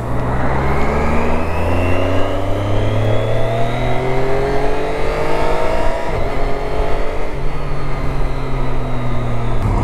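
A Triumph Daytona 675R sport motorcycle with carbon parts and upgraded brakes and suspension, its engine loud and close while riding, pitch climbing steadily through the gears with rising harmonic sweeps, no talk over it.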